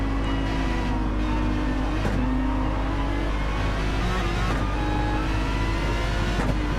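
A pack of five or six race cars circulates closely at Bathurst in Gran Turismo 7, engines droning steadily and loudly with overlapping revs and brief swells as cars shift and pass, continuous throughout.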